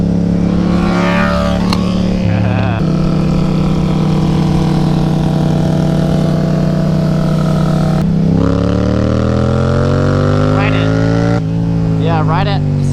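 A Yamaha FZ07 motorcycle engine revs and shifts up and down through the gears, with a crisp tone and steady loud drone broken by sudden pitch changes at each shift, while a rider talks over it.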